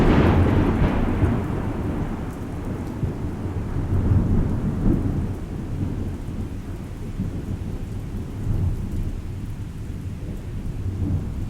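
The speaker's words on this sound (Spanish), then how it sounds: "Esa madrugada llovió." Heavy rain falls steadily while deep thunder rolls and rumbles through, loud and close, with a sharper crack near the start and no voices.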